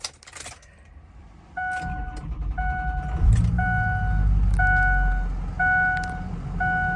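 Keys jingle close by, then a Ford Excursion diesel engine cranks and starts, settling into a low, steady idle while a repeating door chime pings in the background.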